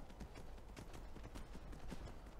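Hooves of a robot horse in the video game Skyrim, a quick, quiet clip-clop in steady rhythm over a low background.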